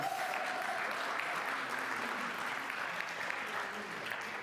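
Steady audience applause in a church service, many hands clapping together in a dense, even wash that carries through at a constant level, with faint voices mixed in.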